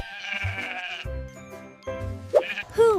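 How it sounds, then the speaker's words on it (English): A sheep bleats in short wavering calls close by, a few distinct bleats with brief gaps between them and no talking over them. "It's a sheep."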